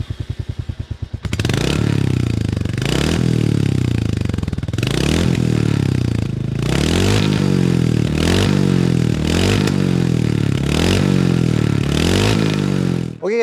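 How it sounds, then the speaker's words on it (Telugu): Royal Enfield Hunter 350 (2025 model) motorcycle revving repeatedly, its loud 350cc single-cylinder exhaust note rising and falling in steady throttle blips close to the microphone, with no talking. "హంటర్ 350 ఎగ్జాస్ట్ నోట్ ఎలా ఉందో ఒకసారి చూద్దాం మనం."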